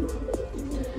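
Pigeons coo in a loft where young squabs are being raised, soft low calls repeating a few times close by over steady background noise.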